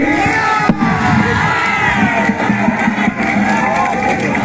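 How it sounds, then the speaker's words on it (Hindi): A large crowd at a political rally in Bihar claps and cheers loudly and steadily, with whoops and shouts layered over dense, continuous applause throughout. "जोरदार ताली बजाइए।"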